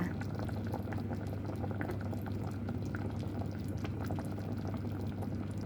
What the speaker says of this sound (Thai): โอ้ยทิ้งเดือดไว้สักพักค่ะพี่น้อง